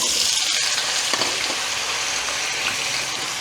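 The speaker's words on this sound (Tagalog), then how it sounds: "Mainit na po yung mantika mga paps. Ipiprito na natin itong ating patatas." Potatoes fry in hot oil in a pan, a steady dense sizzle that holds loud and even throughout, with a faint stirring scrape partway through.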